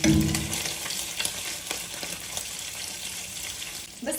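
Pieces of meat fry and sizzle in a pot, browning before being turned, for stewed kebab; a steady close crackle with faint scraping and small spatters, briefly denser at the start and again near the end.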